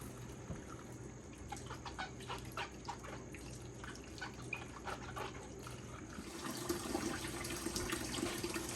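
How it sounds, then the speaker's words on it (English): Tap water runs steadily while tomatoes are rubbed and scrubbed beneath it; faint dog and chicken sounds come from the distance. "I'm just going to scrub them off real good under the water."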